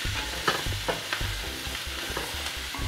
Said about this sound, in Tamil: நல்லா வெங்காயம் மிளகாய் அவியணும்